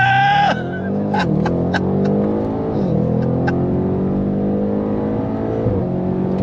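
An Audi RS7 sedan accelerates hard on throttle, its engine note loud and close as it rises through the revs, dips at each gear change around one, three and six seconds, then climbs again in a steady, sustained pull.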